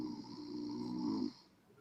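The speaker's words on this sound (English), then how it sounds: "snoring. Y'all hearing?" A person snores in one drawn-out rasping inhale that stops abruptly, close and moderately quiet.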